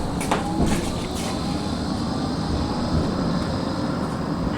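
A Blackpool tram rumbles along steadily from inside, with a constant low roar of wheels and motor, faint rattles and squeals on top, continuous and fairly loud with no talk.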